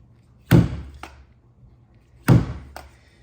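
A glue tab yanked off a dented panel on a bright green Hyundai gives two sharp, fairly loud thunks about two seconds apart, each followed by a fainter snap, with no talking.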